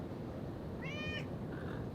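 A single cat meow with a rising-falling harmonic tone, followed by a softer short mew, over low background noise.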